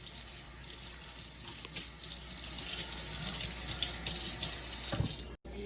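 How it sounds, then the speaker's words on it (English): Hot water runs steadily from a tap into a sink as hands are washed with soap, a continuous close splashing gush that stops abruptly near the end. "Wash hands with hot water and soap, being sure to wash in between all the fingers and fingernails."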